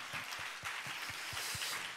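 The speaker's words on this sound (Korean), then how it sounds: "그 위대한 일을 행할 주님 앞에 다시 한번 뜨거운 영광의 박수를 합니다" A church congregation applauds during a Pentecost service, a broad wash of many hands clapping with a few louder, regular claps standing out in a steady rhythm.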